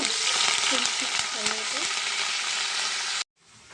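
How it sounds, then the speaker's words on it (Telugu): Crushed green spice paste fries in a pan for cabbage and chana dal curry, with a loud, dense sizzle and stirring scrapes up close. The sound cuts off sharply near the end. "ఇది కొంచెం బాగా ఫ్రై అయ్యే వరకు ఉంచుతాము"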